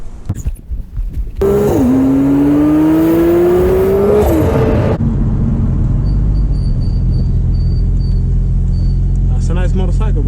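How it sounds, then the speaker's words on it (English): A motorcycle passes by close and loud, its engine pitch sweeping down and then rising before it cuts off abruptly, followed by quieter background noise and faint chirps. "That's a nice motorcycle, bro."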